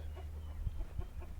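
Chickens on a farm cluck in short, soft bursts, a few quiet calls over steady low background noise.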